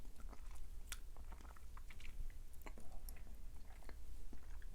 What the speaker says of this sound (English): Let's take another bite here. Let's see how spicy it's going to be.